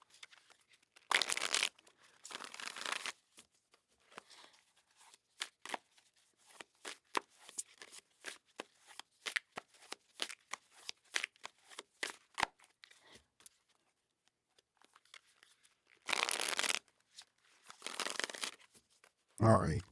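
Tarot cards are shuffled up close in rapid riffling bursts, with brief pauses and bits of handling between them, and a person speaks quietly in the gaps.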